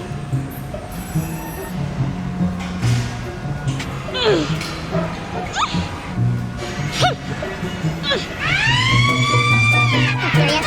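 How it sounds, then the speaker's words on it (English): Rising and falling siren wails sweep up and down amid background noise and voices, with a loud sustained siren blaring toward the end. "They even had bright lights and giant loud sirens."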